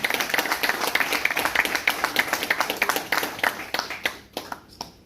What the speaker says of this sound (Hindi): तालियां जरूर होनी चाहिए।